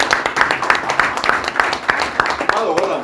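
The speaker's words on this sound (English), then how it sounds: "So please, once again, a round of applause for yourself." An audience at a telecom event with fellows gives a round of applause, a dense wash of clapping that continues steadily throughout at a moderate level.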